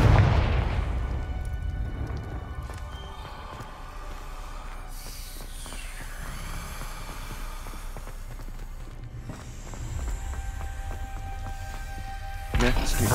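A Confringo fire spell explosion in Hogwarts Legacy: a loud booming burst at the start that rumbles and fades away, with a second sharp blast near the end.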